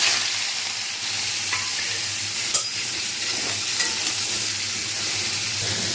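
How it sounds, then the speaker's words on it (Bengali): Prawns fry steadily in hot oil in a pan, a continuous close sizzle with light stirring clatter and faint occasional taps, no voices. "তেলটা গরম হয়ে গেছে হালকা এটা ভেজে নেবো চিংড়ি মাছটা"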